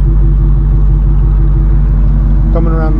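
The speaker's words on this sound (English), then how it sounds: "That's just stock exhaust right there." Stock exhaust of a 2019 Dodge Charger R/T with a Hemi V8, a steady low idling rumble held close and loud throughout, with a brief higher tonal whine near the end.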